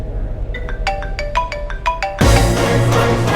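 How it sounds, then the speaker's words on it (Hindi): A mobile phone rings with a rapid series of bright electronic tone bursts in a room, then a loud broadband rush of noise abruptly cuts in and masks the ringtone. "किसका फोन बज रहा है?"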